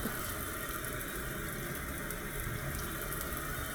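Water from an outdoor shower at a villa in Seminyak, Bali, runs in a steady, even hiss that fills the whole stretch without a break, fairly faint and with no voices.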